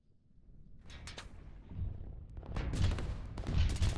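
Infantry gunfire and artillery in the Line War strategy game: scattered cracks of shots and heavier rumbling blasts build into dense overlapping bursts, loud and close, with no voices.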